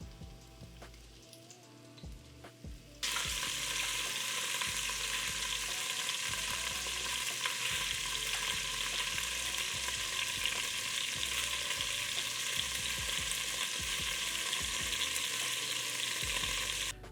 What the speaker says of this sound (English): I'm gonna cook my meat in batches because I do not want to overcrowd my pot.